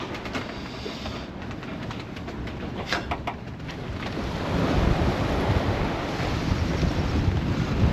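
Rough sea rushes and surges around a sailboat on an Atlantic crossing, heavy wind buffeting the microphone, the roar swelling louder toward the end.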